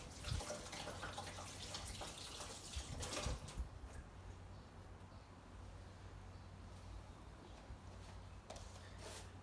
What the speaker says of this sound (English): I just need to wash the hand and then come back to you